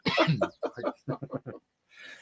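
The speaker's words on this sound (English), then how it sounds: "Oh, he's got a cough." A few sharp, harsh coughs in quick succession, close by, followed by a short raspy breath.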